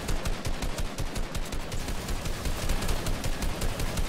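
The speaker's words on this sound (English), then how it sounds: "Yeah, I'm minigunning this trio." A video game minigun fires in a continuous rapid rattle of shots for the whole stretch, steady and fairly loud with no talk over it.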